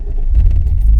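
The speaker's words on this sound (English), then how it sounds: "we'll get this car fired up" A Toyota Mk3 Supra with a 1JZGTE engine fires up, giving a short, loud, close rumble that swells as it catches.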